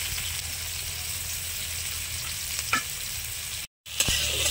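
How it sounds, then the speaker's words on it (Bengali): Tomato and green chilli fry in a hot pan for a Bengali ash gourd dish, giving a steady close sizzle with a faint stirring scrape and a brief dropout near the end. "আর এই যে টমেটো আর একটু কাঁচা লঙ্কা দিয়ে দিচ্ছি"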